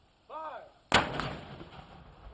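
A single loud ceremonial cannon blast booms at a museum's 250-year anniversary celebration on the Fourth of July in East Texas, its long rumbling echo trailing off after a brief higher-pitched tone just before the shot.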